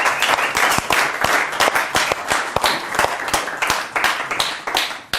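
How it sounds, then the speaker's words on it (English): Audience applause at a magic performance, a dense burst of close, crisp clapping that holds steady and then thins slightly toward the end, with no voices over it. "And that's your applause."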